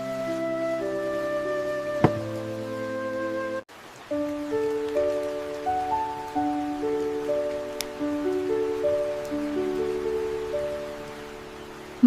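Steady rain patters on a mobile home at a campsite, a soft continuous hiss running beneath gentle, slow tonal music notes.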